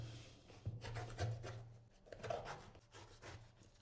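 A Karda Neptun Silver D040 folding knife saws through the side of a shoe with quiet, close rasping strokes and scraping rubs in a short, faint sequence.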